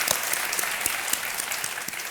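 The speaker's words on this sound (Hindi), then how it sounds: "तालियां बज जाएं एक बार फिर इनके लिए" Studio audience at a Hindi quiz game show applauds a contestant who has just won 50 lakh rupees, a steady, dense wash of clapping that holds at an even level throughout with no voices over it.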